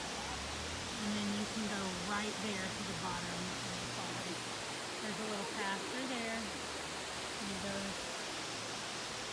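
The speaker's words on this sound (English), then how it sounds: "it takes you right up to the bottom of the falls." Waterfall in Spearfish Canyon, South Dakota, heard as a constant dense roar of rushing water near the base of the falls, with a person talking over it throughout.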